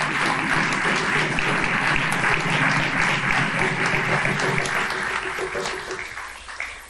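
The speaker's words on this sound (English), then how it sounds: "So give yourself a round of applause and Chimigwech." Sustained applause from an audience at an opening ceremony, a dense steady wash of many hands that holds evenly and then thins and fades toward the end.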